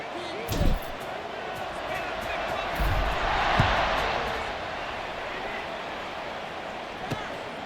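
Stadium crowd roars in a College Football 26 simulation of Georgia Tech vs. Wake Forest, a broad sustained swell of cheering that rises mid-clip with a few sharp hits, running steadily under the game ambience.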